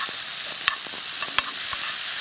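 Dried, soaked shiitake mushrooms frying in a preheated pan while preparing a steamed-egg dish, giving a steady close sizzle with a few soft clicks and stirring taps, no talking.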